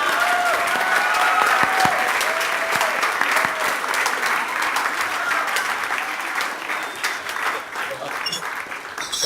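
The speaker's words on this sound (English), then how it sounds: "You can all give yourselves a big round of applause if you like." A studio audience applauds steadily at the close of a science talk on expanding universes, dense clapping sustained throughout, with a few whistles and faint voices mixed in.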